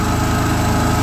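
Generator engine running steadily under an automatic start controller, a loud, close, constant mechanical drone with a fast even pulsing throb, no voices.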